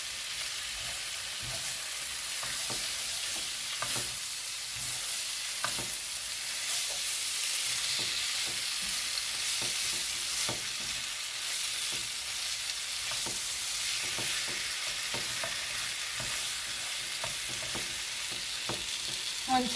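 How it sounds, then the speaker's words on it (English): Vegetables stir-frying in a hot pan for crispy chilli beef, a steady loud sizzle with scattered stirring scrapes and crackles lasting about twenty seconds, no voices. "The veg in now."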